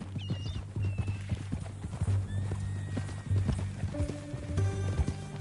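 Horse hooves clip-clop steadily in a PS4 video game, with a horse's neigh rising partway through over game music and ambience; voices speak faintly alongside.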